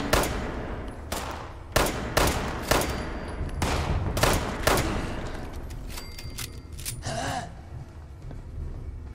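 Gunfire in Fallout 76 rings out in a run of sharp, loud shots, several clustered bursts in the first half, then thinner scattered reports over a steady rumbling background.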